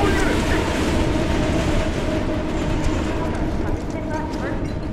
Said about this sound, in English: the fact that the train went right there and it was triggered